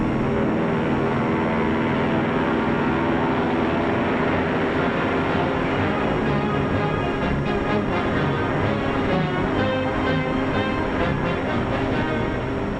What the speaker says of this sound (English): The striking power of Hudson bombers, the speed of the P-38